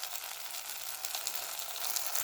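Egg, onion, curry leaves and ginger-garlic paste fry in oil with a bright, steady sizzle, close and continuous, with no voices.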